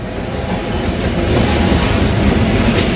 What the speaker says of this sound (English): We're on another train.